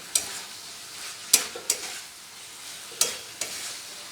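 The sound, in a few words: sautéing spices with flat beans in oil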